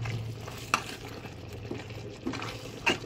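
Chili goes into a hot pan of chicken afritada on the stove, and the oil answers with a steady close sizzle, punctuated by a few sharp clinks of a utensil against the pan.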